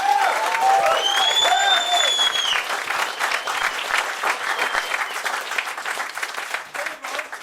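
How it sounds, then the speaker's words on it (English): Audience at a Sheffield spoken-word battle event breaks into sustained applause, loud and dense from the start, with a few whoops and cheers on top, gradually thinning toward the end. "Give me a round of applause, people."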